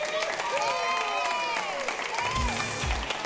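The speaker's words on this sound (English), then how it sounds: "Ladies and gentlemen, give it up for Dan Humphrey in the crowd." A crowd applauds steadily throughout, with cheering, while a voice speaks over the clapping.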